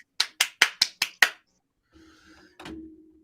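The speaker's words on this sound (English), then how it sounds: "Somebody got to clap." A single person claps six sharp, evenly spaced times close up, then stops; faint background noise and a brief knock follow in the quiet.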